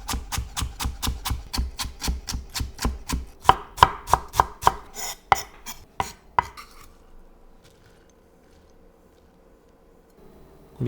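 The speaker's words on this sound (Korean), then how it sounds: "작게 썰어 담아줍니다." Knife chopping a small carrot into small pieces on a board, about twenty quick, evenly spaced, sharp taps in a steady rhythm over six seconds, close and loud, then stopping into quiet room tone.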